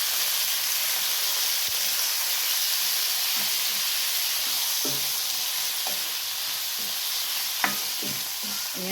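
Pork for menudo cooks in a pan on the stove, giving a steady loud sizzle and hiss with occasional stirring scrapes and clinks over the continuous bubbling.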